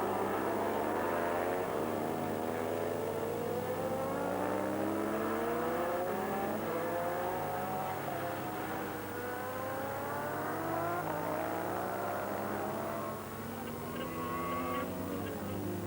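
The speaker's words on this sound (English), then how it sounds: "Thunder of the superbikes as Mastrelli brakes hard for the bottom hairpin" Superbikes from Ducati and Honda race around a circuit and brake for a hairpin, engines whining and shifting pitch as several machines pass at a distance, with a race commentator talking over them.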